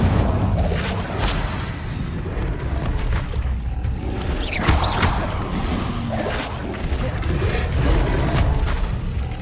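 Incendio fire spells cast in the Hogwarts Legacy game, a dense, loud wash of booming, crackling blasts with rushing whooshes. The sound stays near and continuous, with repeated bursts layered on a deep rumble.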